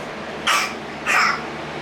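Two short, forced coughs from a young child, spaced about half a second apart, sounding playful rather than sick, nearby with a faint background hiss.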